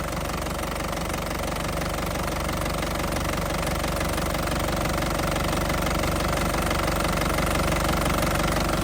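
A warmed-up 2010 Isuzu Panther Grand Touring engine idles steadily, a dense, loud, continuous diesel clatter with a rhythmic knocking texture heard close up and without pause.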